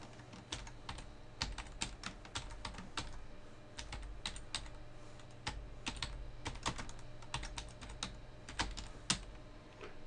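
Typing on a computer keyboard at a steady, uneven pace, with dense clicky keystrokes close up and a faint background hum, no talking.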